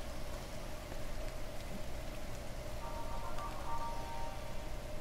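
Steady rain falls in the survival video game The Forest, a constant even hiss of drops with no talk over it.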